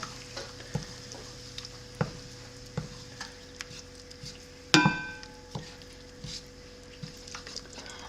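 Italian seasoning is stirred into a pot of pasta e fagioli, with a spoon scraping and knocking against the pot in irregular clinks and one sharp clatter over a faint sizzle, close, with no talk.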